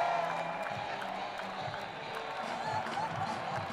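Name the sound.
Olympic marathon crowd cheering and applauding in Rio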